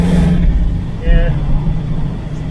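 The engine of a 1970 Camaro project car revs loudly and close as the pedal is floored, a running fuel mixture fault making it run too rich or too lean, with a steady low roar throughout.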